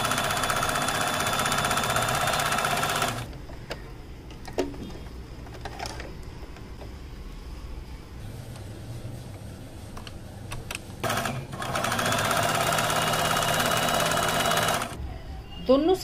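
A sewing machine stitches a zip seam on a small cloth purse, running in fast continuous bursts: a long run, a pause with small handling noises, then another long run and a short final burst.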